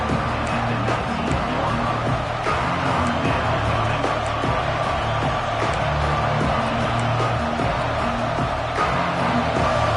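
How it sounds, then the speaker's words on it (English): A packed football stadium crowd roars and cheers in a dense, unbroken wall of noise for the full ten seconds, loud and steady without any clear peaks. "This crowd rising up, sensing that its defense needs some help."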